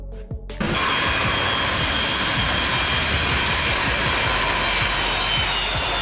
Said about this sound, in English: a heavy transport aircraft designed and manufactured by Antonov